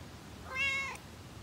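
A single cat meow, rising and falling over about half a second, clear and fairly close against a quiet background with no talking.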